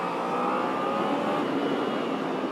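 A Honda VFR 750 motorcycle engine held revving in first gear, a steady loud roar at close range with no talk.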